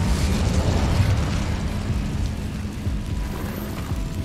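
The Incendio fire spell cast in Hogwarts Legacy, a loud burst of roaring flame that swells at once and then settles into a steady crackling rush, close and alone with no talk.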